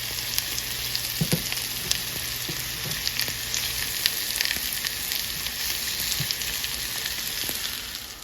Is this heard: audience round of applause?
no